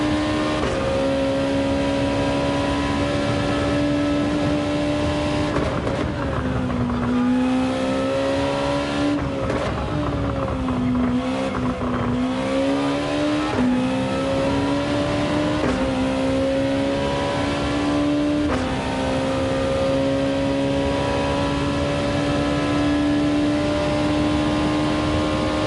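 Race car engine in Gran Turismo 7 at the Nürburgring, held flat out in a steady, loud, buzzing drone with brief pitch dips at gear changes and corners, alone without talk.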